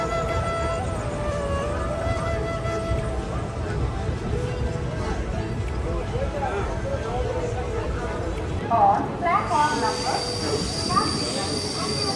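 A moving passenger train heard from inside, a continuous rattling rumble with brief wheel squeals near the end and voices faintly underneath.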